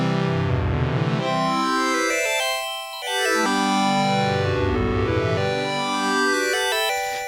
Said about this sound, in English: The last patch is another pad slash sort of sound effect. It's called Auto Twinkle.